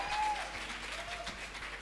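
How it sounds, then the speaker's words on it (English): A festival audience applauds at a panel discussion on managing cultural events in Northern Nigeria, a steady wash of clapping from a crowd sustained throughout. "So please, a round of applause for him on that."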